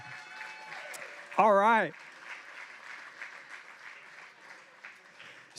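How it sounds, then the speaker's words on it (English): An audience at a student success event gives a round of applause after a speaker, light scattered clapping that runs throughout, broken by a brief loud warbling whoop, while a voice speaks briefly. "Round of applause."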